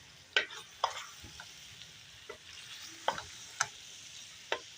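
Capsicum sautéing with beef qeema in a pan, with a few distinct scraping stirs of a spoon over a soft, quiet sizzle and no talking.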